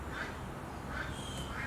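Domestic ducks give repeated rhythmic quacks, about one every second, faint and set against steady outdoor background noise with no one speaking.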